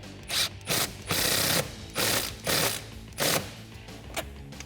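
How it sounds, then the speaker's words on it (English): A ratchet with a 10mm socket tightens an intake tube clamp on a 2019-2020 Ram 1500 5.7L, making close, rapid clicking bursts in a series of short strokes with brief pauses between them. "Tighten that up with a 10mm socket."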